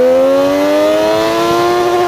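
Lamborghini Diablo accelerates past in first gear, a loud close engine whine climbing steadily in pitch for about two seconds with no talk over it.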